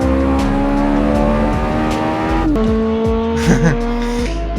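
Ferrari F430 in the Assetto Corsa racing game holding a loud, steady high-rpm engine drone at over 200 km/h, with a gear change partway through and brief tire squeal near the end.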